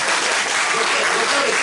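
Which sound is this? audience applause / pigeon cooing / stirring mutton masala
audience applause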